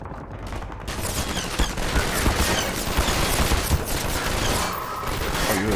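Dense, sustained gunfire from snipers in Half-Life 2, rapid overlapping shots and bursts crackling loudly throughout with no talk.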